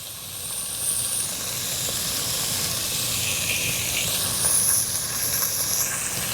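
Beef cubes browning in a pot for Hungarian goulash give off a steady, close sizzle and hiss that holds throughout, swelling slightly near the end, with no talking.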